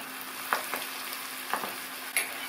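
Steady soft sizzling of food deep frying in hot oil in a kadai, close up, with a few light stirring clinks breaking through.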